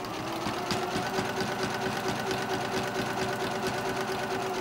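A sewing machine stitching machine appliqué, a steady rapid mechanical whir and needle chatter running continuously and close at an even level throughout.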